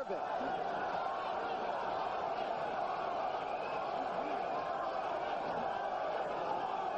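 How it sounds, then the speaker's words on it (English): A boxing arena crowd chants 'Berbick' during the 13th round of the Larry Holmes vs Trevor Berbick heavyweight fight: a dense, steady roar of many voices that stays loud throughout, with a commentator's voice over it. "You hear the crowd now start to chant"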